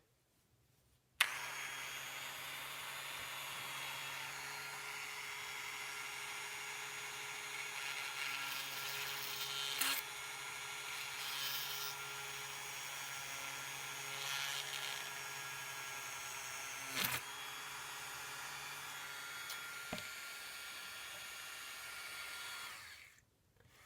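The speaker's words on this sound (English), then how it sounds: "the drill went through pretty easily" A small drill bores a hole through a hollow plastic minifigure piece, a steady whining motor hum running for about twenty seconds with a few brief clicks and bumps before stopping.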